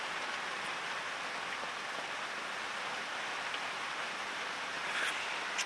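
Rain falling steadily outdoors in the South African bush during a live safari broadcast, a continuous even hiss of drops with no voices and little variation in level.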